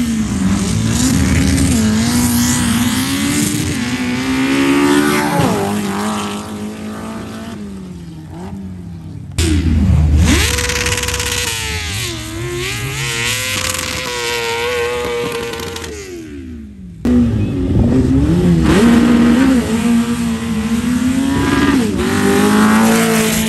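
A 4G63 turbocharged street-class race car accelerates hard through the gears, loud engine roar climbing in pitch, with sharp breaks at each shift and repeated surges of revving close by.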